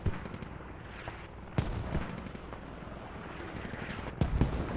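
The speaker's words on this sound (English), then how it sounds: "Mortars are landing right where the infantry need to spawn and push in" Mortar shells land on infantry in a military video game set at a desert fortress in Iraq, heard as scattered booming impacts with a few sharp, louder blasts over a low rumbling background.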